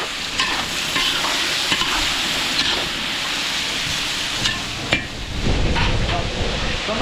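Kaldereta stew with carrots and potatoes bubbles and sizzles in a large pot for a catered 100th-birthday celebration, a steady simmering hiss with occasional stirring clinks, close and fairly loud.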